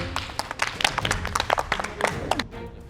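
Applause on a MasterChef cooking competition set, a small group clapping unevenly in quick, close bursts that thin out toward the end, with low background voices underneath.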